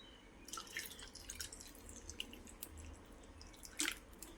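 Liquid poured into a jar of salted gooseberry pickle, with boiled and cooled water filling it about three-quarters. Soft, intermittent dripping and trickling splashes sound close by, with a brief louder burst near the end.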